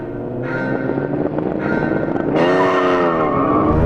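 A Honda NSX launches at a drag race start, its engine roaring up in pitch in rising bursts through quick gear changes, with a tyre squeal, loud and close, no speech.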